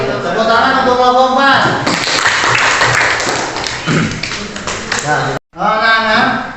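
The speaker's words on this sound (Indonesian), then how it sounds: "Tepuk tangan untuk kelompok" A classroom of students claps for a student group, a brief burst of scattered applause in the middle, with a teacher speaking before and after it.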